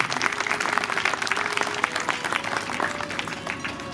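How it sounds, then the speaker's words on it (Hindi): Audience applause at a Shiv Mahapuran religious discourse gathering, a sustained dense burst of many hands clapping steadily throughout, fairly loud and close, with no talk over it. "आप जोर ताली बजा करके इनका भी धन्यवाद करें।"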